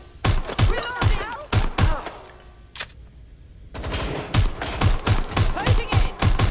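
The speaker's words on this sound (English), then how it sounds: "Shit! I'm getting shot at here! Taking fire." Rapid gunfire rattles through a Watch Dogs Legion firefight, loud close bursts and volleys with a short lull in the middle before a steady rhythmic stream of shots resumes, with shouted voices mixed in.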